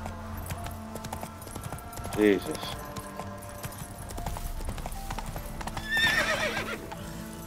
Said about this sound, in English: now sometimes this horse gets stuck on anything.